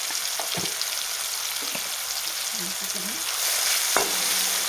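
Tomatoes with turmeric and salt stirred in a pan for Marathi phodniche varan, a steady frying hiss with a few spoon scrapes and knocks against the pan, close and even, without talk.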